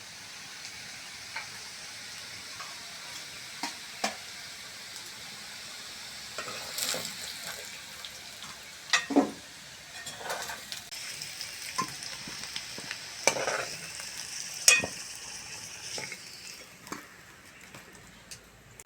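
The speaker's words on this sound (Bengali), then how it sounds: "আলুটা ভালো করে ভেজে নিয়েছি, তেল থেকে তুলে নেব" Potatoes fried in oil give a low, faint sizzle, broken by scattered clinks and scraping as pieces are stirred and lifted out of the pan, with no talking.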